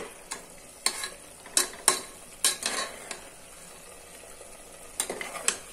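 Ground masala paste frying in oil in a pan for a village-style dal meal, with a spoon scraping and stirring in several sharp strokes over a soft sizzle, then a pause and more stirring.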